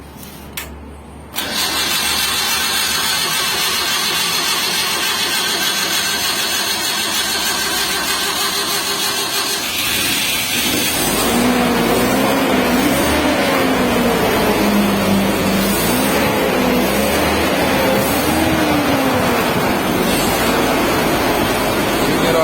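A carbureted engine fitted with a gas reducer cranks briefly, catches and starts, then runs steadily at a loud, close idle with a rising and falling hum, no talking.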